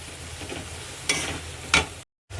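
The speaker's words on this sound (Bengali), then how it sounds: "ঢেলে আমি এটাকে এবার আলু টালু দিয়ে সব কিছু যে ছিল এটাকে একটু নাড়িয়ে নেব" Potatoes being stirred and sautéed for a doi katla fish curry give a soft, low sizzle with two brief scraping stirs, close by and quiet, with no speech.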